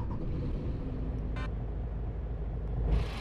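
A coach engine in Fernbus Simulator, the Hanvool bus, starts up and settles into a low, steady idling rumble, with a brief mechanical click partway through and a slight swell near the end.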